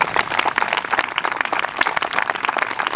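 A live audience at a lighthouse 150th birthday celebration breaks into steady, dense applause, many hands clapping continuously throughout with no voices standing out.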